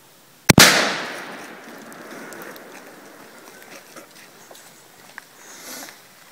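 A single loud shotgun blast fired outdoors, a sharp close crack followed by a long fading echo and quiet ambient noise afterward.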